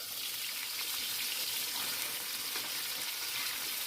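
Beunteur fish fry in hot oil, giving a dense, continuous crackling sizzle that stays steady and fairly close throughout, with no voices.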